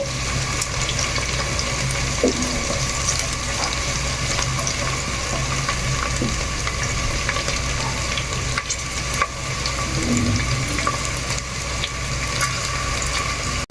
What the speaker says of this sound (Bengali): গাজরটা প্রায় ভাজা ভাজা হয়ে গেছে